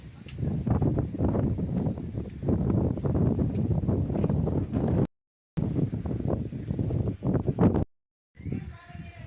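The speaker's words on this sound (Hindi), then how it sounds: "बहुत ही सुंदर यहाँ पे हवा चलती हुई।" Wind blows steadily outdoors in the Uttarakhand hills, buffeting the microphone with a continuous rough roar while someone speaks over it, broken by two brief dropouts.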